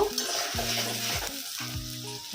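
Spices cooked with onion paste and ginger paste sizzle steadily in a pan while a utensil stirs and scrapes through them, with no talking.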